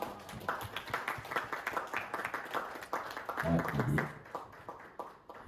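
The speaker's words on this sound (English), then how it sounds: "Please, another big round of applause" Audience applause and clapping after a motivational power talk at the Sahara Wisdom Center, a steady, dense patter of many hands that swells toward the end and then thins out.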